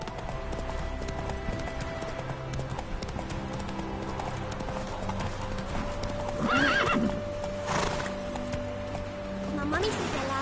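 Horse hooves clip-clopping steadily at a gallop in The Witcher 3, with a couple of clear neighs rising midway and near the end, over a continuous game music bed.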